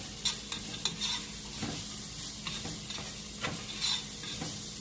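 Ginger garlic paste fries on a high flame for vegetable Hakka noodles, with a steady hiss of sizzling and soft scraping stir strokes in a quiet kitchen.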